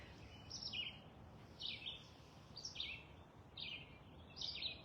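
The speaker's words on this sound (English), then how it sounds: "we're back here with the birds in my backyard" A bird sings short bright phrases about once a second, five in a row, in a backyard over a faint low background hum of passing traffic.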